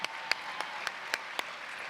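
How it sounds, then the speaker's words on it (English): A handful of sparse, separate claps ring out in a pageant hall, about six distinct hand slaps spaced unevenly over a faint background rather than a full ovation. "Round of applause for that."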